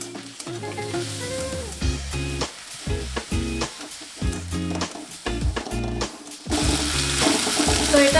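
Tomatoes frying in hot oil with curry leaves for a Kerala-style chicken curry give a steady sizzle, with background music playing over it throughout.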